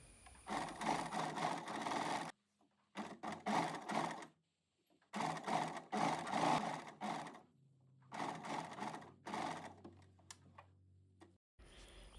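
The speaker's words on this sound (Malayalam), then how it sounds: "അതുപോലെ ഫുള്ളായിട്ട് നമുക്ക് സ്റ്റിച്ച് ചെയ്തെടുക്കാം." Sewing machine running in four steady, fast-ticking bursts separated by short pauses, stitching pintucks into pashmina fabric, close and clear with no voices.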